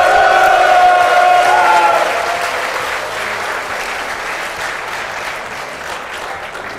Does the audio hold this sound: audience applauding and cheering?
yes